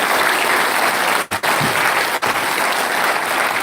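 A crowd at a ceremony at NIT Agartala gives a sustained round of applause, dense continuous clapping with a couple of brief dips, heard alone without talk.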